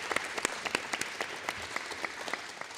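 Scattered audience clapping at a candidate forum, distinct individual claps in a loose, fairly quiet rhythm lasting about three seconds with no talking.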